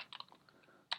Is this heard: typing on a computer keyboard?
yes